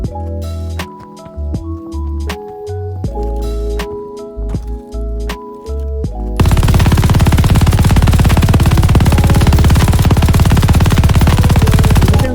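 Rapid automatic MG42 machine-gun fire in the video game Call of Duty: Vanguard, a loud, dense, sustained burst that bursts in abruptly after a stretch of game music and keeps roaring steadily to the end.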